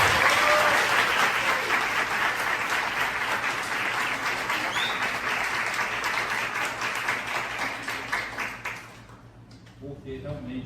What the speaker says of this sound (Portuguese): eu queria realmente que a gente desse uma salva de palmas à professora Edna